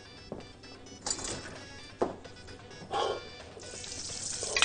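Ghee sizzling in a pot on a stove, heard as intermittent hissing bursts that rise and fade, with quiet kitchen clatter between them and no talking.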